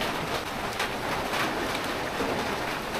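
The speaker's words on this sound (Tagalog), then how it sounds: "Oh, lakas ulan oh." Heavy rain pours steadily and loudly, a dense unbroken hiss of drops drumming on a nearby surface.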